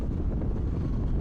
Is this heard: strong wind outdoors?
yes